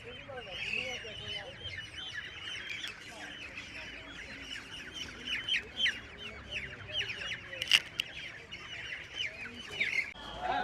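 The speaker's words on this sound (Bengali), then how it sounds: "এই যে এই মুরগিগুলো দেখছেন, লাল যে মুরগিগুলো, এগুলো কিন্তু লেয়ার মুরগি।" Red layer hens clucking in a crowd at a night-time wholesale poultry market in Kaptan Bazar, a dense, near chorus of cackles and squawks with people talking underneath.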